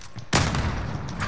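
SMG fire in Call of Duty: Modern Warfare rattles out as a sudden loud burst of rapid shots that keeps going steadily to the end.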